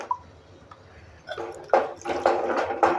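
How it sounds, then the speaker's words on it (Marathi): Water poured into a pan of mutton masala for a traditional village-style mutton curry, heard as soft, close splashing and bubbling gurgles that swell after a quiet start, with no voice. "आता ह्याच्यात पण मी थोडं पाणी टाकून घेते."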